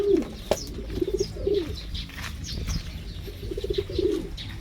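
Backyard pigeons coo in soft, repeated throaty bursts close by, with a brief flutter of wings.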